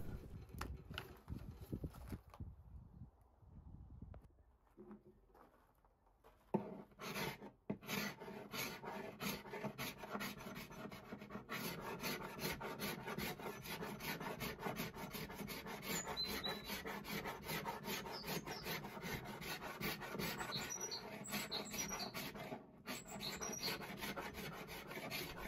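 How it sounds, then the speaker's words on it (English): Hand scraper stripping old finish from the top of a wooden side table, dense rapid rasping strokes up close that start after a quiet pause and continue steadily, loud and alone. "So here I am removing the finish with a scraper"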